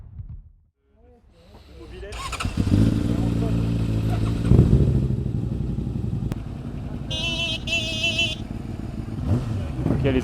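A motorcycle engine growls and revs in the evening along roads above the Marne valley near the Montagne de Reims, with voices and some brief higher-pitched tones over the steady rumble.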